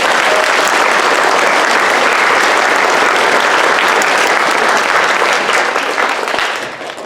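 Applause from an audience at an elementary school concert, a steady dense wash of clapping for several seconds that fades out near the end.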